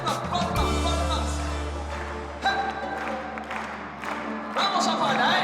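Crowd clapping at a children's festival in Zapala, lively rhythmic applause mixed with cheers and shouts over a background of music and voices.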